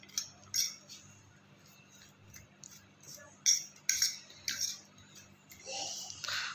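A spoon clinks and scrapes against a bowl while mixing cheese omelette ingredients, giving a series of sharp, close metallic taps with brief pauses and a softer stirring swirl toward the end.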